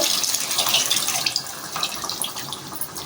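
Tamarind juice is poured into a pan for a tomato egg masala, a continuous close liquid splashing and trickling sound with no talking.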